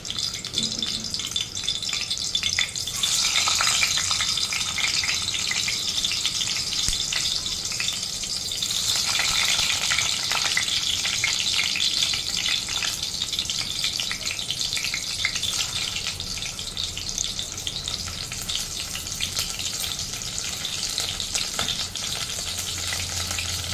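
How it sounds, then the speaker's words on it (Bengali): Potatoes frying in a pan of oil for mutton biryani, a steady loud sizzle filling the whole stretch with occasional stirring and shifting noises, no voices. "আলুগুলো ছেড়ে দিচ্ছি। এই ফ্রাই করার সময় আমি অল্প একটু নুনও অ্যাড করে দেবো।"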